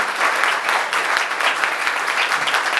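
A college audience claps for guests at a road safety awareness program, a brief burst of loud, even applause from many hands, close and continuous.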